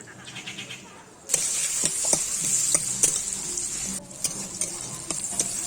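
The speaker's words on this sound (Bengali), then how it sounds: "উচ্ছেটাকে দিয়ে একটু হালকা করে লবণ আর হলুদ দিয়ে একটু ভেজে নেব" Bitter gourd frying in oil with salt and turmeric, a close steady sizzle broken by repeated stirring clicks and scrapes after a quieter start.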